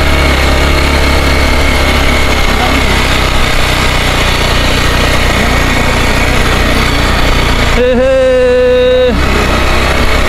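A loud motorcycle engine drones steadily and close up for the whole stretch, with a brief tonal whine breaking in near the end.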